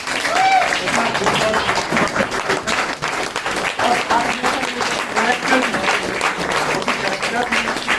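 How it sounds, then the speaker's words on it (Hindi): Theatre audience giving a standing ovation for a first-time director after a play, sustained dense applause with crowd voices and cheering mixed in underneath. "मैं चाहूंगा आप खड़े होकर ताली बजाएं"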